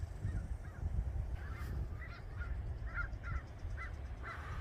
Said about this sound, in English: A murder of crows.